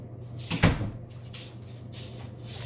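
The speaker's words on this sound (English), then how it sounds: "Just closing the laundry room door" A laundry room door closes with a single quick thud at home, alone in a quiet room.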